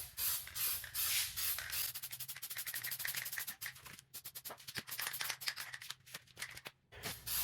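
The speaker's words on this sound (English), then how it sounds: "So let's go ahead and spray on our second coat." Aerosol cans of Plasti Dip rubber coating hiss steadily as a second coat is sprayed onto a Porsche body kit, in close continuous bursts broken by short pauses between passes.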